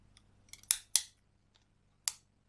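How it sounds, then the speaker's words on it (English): Ratchet crimping tool clicking shut onto a cable terminal during van conversion wiring: a few faint ticks, then three sharp, close metallic clicks, two in quick succession and one more after a pause. "a couple of bites down, a couple of clicks on the ratchet just to hold it so it's not going anywhere"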